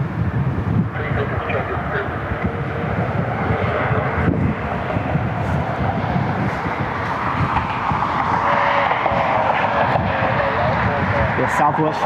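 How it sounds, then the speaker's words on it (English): A Frontier airliner on final approach into Cleveland Hopkins, arriving from Myrtle Beach, gives a steady, loud jet roar that holds throughout while someone talks over it. "For the Frontier 4118 inbound from Myrtle Beach on final."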